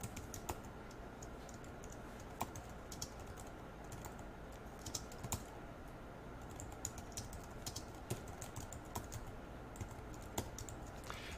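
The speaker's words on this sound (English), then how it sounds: "I'm just going to type out this note" Keystrokes on a computer keyboard tapping out a short note, a steady run of soft clicks with occasional louder taps over a faint room hum, no talking.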